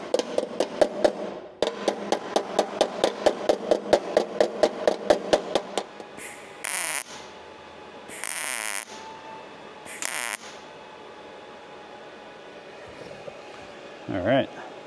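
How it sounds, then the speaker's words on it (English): A ball peen hammer taps sheet metal on a flatfender radiator in a quick, steady run of close, ringing metallic blows, then stops, followed by scraping and shifting sounds. "I want to get a little hammer so I can make sure that the metal is up against it."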